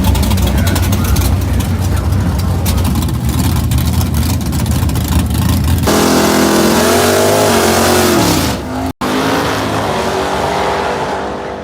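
A 1960s Dodge HEMI factory race car engine revving hard and loud up close, a deep roaring drone that shifts character and climbs in pitch, briefly cutting out near the end before resuming.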